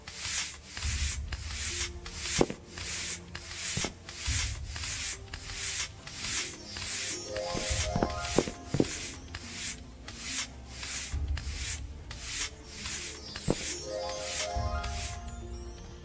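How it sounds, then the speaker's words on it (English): Cleaning effect in a video game under development, a steady series of rough scrubbing, sanding-like swishes in an even rhythm with a few faint clinks and tones, close and fairly quiet, no speech. "I like the sound, the cleaning sound that Emily gave me"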